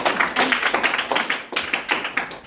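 Classroom applause as students clap for a pair of classmates called up to present, a dense patter of hand claps with a slightly irregular rhythm, fairly close, and no talking.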